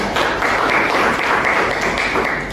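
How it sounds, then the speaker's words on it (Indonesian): A classroom applauds a student after a micro-teaching lesson: dense, steady clapping from a small group fills the room for the whole stretch, fairly loud and even, with no voices above it. "Beri tepuk tangan buat Jian."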